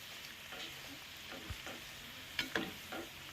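Bread bajji deep frying in hot oil, a soft steady sizzle with a few faint stirring clicks and bubbling pops, quiet and without talk.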